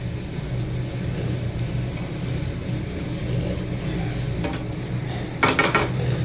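Food frying in a pan for a home-cooked dish, giving a steady, close sizzle over a low hum, with a brighter burst of crackling near the end.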